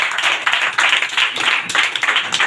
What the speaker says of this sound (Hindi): तो एक बार जोरदार तालियों स्वागत कर दीजिएगा फिर से सर और मैडम के लिए।